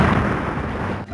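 A cartoon gunshot, a single loud booming blast that decays over about a second.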